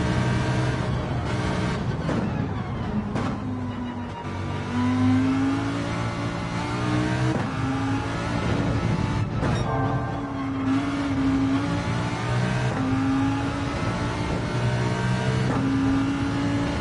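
A race car's engine roars at sustained full throttle in an online racing video game, a steady loud drone with rising and falling pitch as gears shift, and no talk over it.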